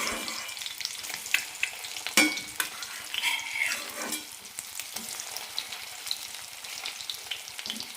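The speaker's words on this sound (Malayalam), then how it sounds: "മീൻ വറക്കുന്നത് പോലെ വറുത്തെടുക്കാം" Close, continuous sizzling of egg vada snacks frying in oil, with scattered crackles and a sharp clink of a utensil now and then.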